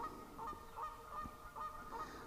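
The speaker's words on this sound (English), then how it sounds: "I got some geese over there not happy about something" Geese honk from a distance near a lake, giving a quick series of faint, evenly spaced calls.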